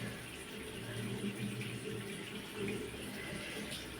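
Water splashing at a sink while a face is washed, a continuous running, gushing wash with small splashes that rise and fall, fairly quiet and near.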